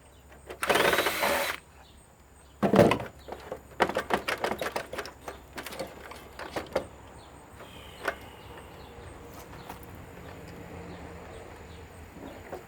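Sharp clicks, taps and rattles come from unscrewing and dismantling a frame with a screwdriver, irregular knocks close by, louder at first and then settling into scattered small ticks.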